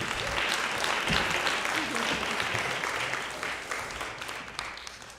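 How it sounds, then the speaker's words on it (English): Sustained applause from a congregation at a Friday night Shabbat service, a dense, steady wash of clapping lasting throughout and slowly tapering toward the end. "Do people want to give like one more round of applause?"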